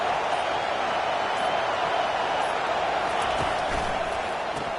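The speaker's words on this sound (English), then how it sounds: "It's early, but this crowd is fired up. Listen to this noise here." Football stadium crowd, a broad steady roar of cheering and noise filling the air at a distance, with a commentator's voice faint under it.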